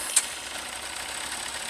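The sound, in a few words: Yamaha Fazer 600 motorcycle engine starting and idling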